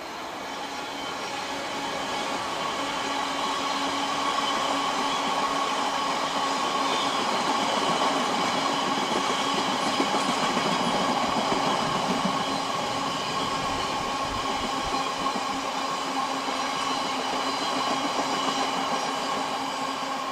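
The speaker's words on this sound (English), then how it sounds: "66511 approaches Middlesbrough with another rake of long box wagons." Class 66 diesel locomotive 66511 hauls a rake of long empty box wagons toward Middlesbrough. A steady rumble swells as it nears and holds, with a faint rhythmic clatter of wheels, heard from trackside.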